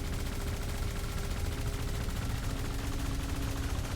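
Ship weapons fire continuously at a Guardian structure in Elite Dangerous, a steady, rapid stream of shots like a machine gun, even and unbroken throughout, with no talking.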